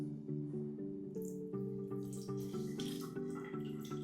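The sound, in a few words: water flowing from tap after water supply restored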